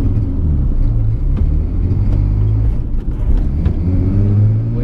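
Nissan 350Z drifting around a slippery corner at a drift experience, its engine a loud, close, deep rumble that varies with throttle, with faint tyre and impact sounds on top.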